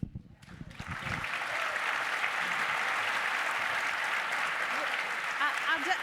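A conference audience bursts into sustained applause after a brief spoken line, dense steady clapping filling the room for several seconds with scattered cheers near the end.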